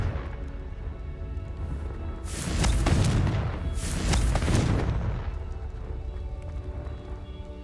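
A Confringo blasting spell going off in Hogwarts Legacy, two heavy booming blasts a second or so apart, each a loud rumbling burst that swells and fades over a low ambient hum.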